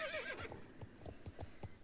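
A horse in the video game Star Stable Online whinnies with a high, wavering call, followed by a steady run of hoof clip-clops in a quick rhythm.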